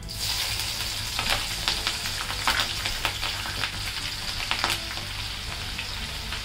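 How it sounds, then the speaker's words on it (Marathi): Continuous crackling sizzle of chilies frying in hot oil, with frequent scraping and clinking as they are stirred. "याच तेलामध्ये ना आता मिरची पण तळून घेऊया."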